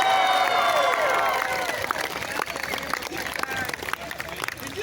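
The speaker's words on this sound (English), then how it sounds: "You do understand you're applauding her bad behavior," A crowd at a Birds of Prey show at the Carolina Renaissance Festival 2021 claps and cheers for Ziggy the vulture, a dense outdoor applause that builds loudly and then thins into scattered claps.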